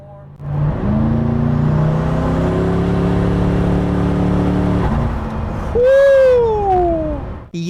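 A Koenigsegg Regera hypercar engine revs up loud and close in a sustained climbing drone, then drops off before a sharp rising and falling whine near the end.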